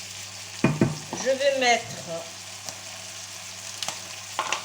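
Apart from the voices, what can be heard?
stirring tartiflette ingredients frying in a pan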